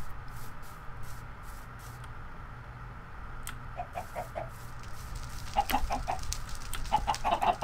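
Video game chickens cluck in short bursts, growing busier toward the end, over a low steady hum and occasional soft thumps.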